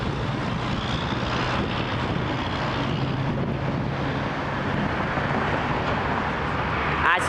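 Transaero Boeing 777-300 airliner landing on runway 23 at Toronto Pearson International; a continuous broad jet roar mixed with wind buffeting holds steady and loud for the whole stretch.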